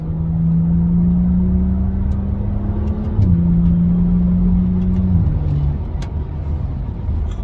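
BMW 435i running in Sport Plus mode, a steady car engine drone with shifting pitch and low exhaust burbles, heard from inside the car with no talking.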